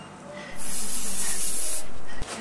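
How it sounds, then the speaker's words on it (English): Aerosol spray can sprayed onto black shoes: one steady, loud hiss lasting under two seconds, starting and stopping abruptly over quiet background noise. "You have to spray that."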